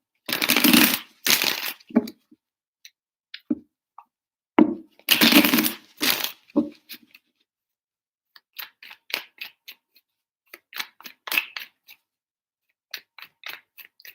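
Tarot cards are shuffled in short bursts of riffling and flicking, several quick clusters with gaps of near silence between them. The sound is close and fairly quiet, with no talking.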